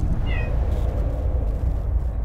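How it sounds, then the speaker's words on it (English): A cat meows once, short and close, over a steady low background rumble of spooky game audio. "My cat."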